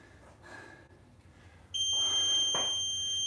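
An interval workout timer set for rounds during a tempo long-cycle session sounds a loud, sustained electronic beep that starts abruptly partway through and holds steady to the end, after a quieter stretch of room noise.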